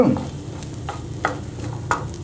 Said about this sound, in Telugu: పోపు వేసుకున్న నూనెలోనే అల్లం ముక్కలు వేసాం రెండు నిమిషాల్లో మగ్గిపోతుంది